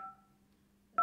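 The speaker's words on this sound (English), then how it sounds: "I'm gonna try her landline" A landline telephone dialing a number: a steady tone pair fades out near the start, then after a quiet gap a single sharp keypad tone bursts in loudly at the very end, with no talking.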